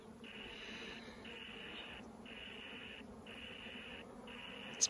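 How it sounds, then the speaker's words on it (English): Steady buzzing of dozens of bees drones in repeated bursts with brief pauses between, fairly faint against quiet outdoor background hiss on a hiking trail in Joshua Tree National Park. "It's bees."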